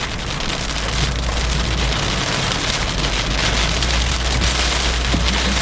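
Heavy raindrops fall hard and steadily close by during a Florida thunderstorm, a dense, constant patter with no voices.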